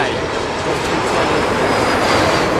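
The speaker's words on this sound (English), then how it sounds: "Swiss Air Airbus 220-300 coming in from Zurich" A Swiss Air Airbus A220-300 jet landing at London Heathrow after a flight from Zurich, heard as a steady, loud wash of engine roar with a faint high whine running through it.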